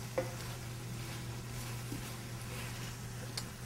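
Chorizo sausage sizzles softly with onions in a cataplana pan, a faint steady frying hiss with a couple of small stirring clicks, no voices.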